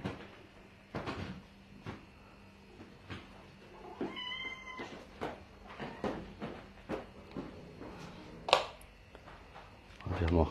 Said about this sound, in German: Wir haben auch gerade ein paar Katzen hier zu Hause.